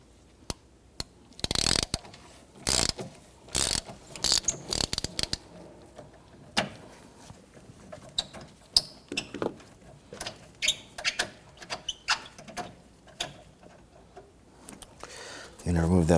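A hand ratchet loosens a bolt on a 2011-2015 Kia Sorento 2.4L transmission mount, giving quick close bursts of clicking with pauses between strokes.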